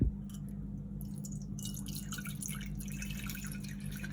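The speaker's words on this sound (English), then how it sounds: "we're going to pour the 300 millilitres of water from the tap" Tap water runs into a saucepan in a home kitchen, a steady close splashing and dripping stream with no talk over it.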